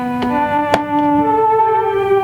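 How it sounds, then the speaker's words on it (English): Sustained synth string pad from Omnisphere's nostalgia folder, warm held chord with gentle swells and a couple of soft attacks, steady and fairly loud, no voice. "It's a string in the nostalgia folder in Omnisphere."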